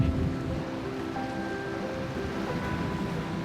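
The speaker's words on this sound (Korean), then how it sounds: "매서운 바람과 거친 파도에도 불구하고" Rough surf and biting wind at Sehwa beach in Gujwa-eup, Jeju, on a cold winter day: a steady, loud wash of breaking waves and gusts that fills the whole stretch, with no voices.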